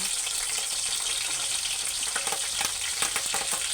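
Green chillies frying in hot oil for prawn biryani, giving a dense, continuous sizzle that stays loud and even throughout, with small crackles near the end.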